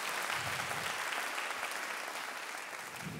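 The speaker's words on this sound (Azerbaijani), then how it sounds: "Orkestrimizi alqışlayaq bu canlı ifaları." Steady audience applause for a live ethnic-classical orchestra after its performance at a solo concert, a dense, continuous wash of clapping from a full hall, moderately loud and unbroken.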